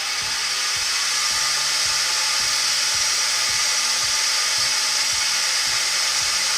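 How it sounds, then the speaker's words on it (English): A wood lathe spins up while a metal ferrule is buffed, giving a steady high whirring hiss over a low rhythmic thumping pulse that repeats evenly throughout, loud and close with no talking. "then we can speed the lathe up"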